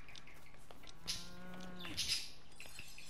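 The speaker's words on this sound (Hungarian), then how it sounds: "Tehének!" Cows mooing in the video game Lego Fortnite, two or three deep drawn-out moos at moderate loudness over a quiet game ambience with a steady low hum.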